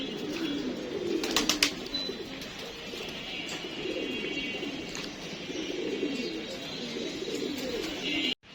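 Racing pigeons coo steadily at their loft as they return from a race, a continuous low murmur of overlapping calls with a few brief higher chirps on top.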